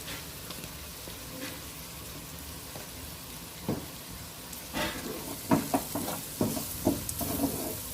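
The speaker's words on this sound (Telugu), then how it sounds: "ఆనియన్స్ ఫ్రై అయిపోయినాయి" Onions sizzle and fry in a pan with chili powder, salt and turmeric for a crab curry gravy, a steady low hiss broken by sharper crackles and pops that grow busier toward the end, with no talking.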